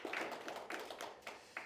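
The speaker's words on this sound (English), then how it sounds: "round of applause for Christian and InvestLink Social" Audience applause at a startup pitch showcase in Chicago, a short burst of scattered clapping from a crowd, steady and moderately loud with a few sharper individual claps standing out.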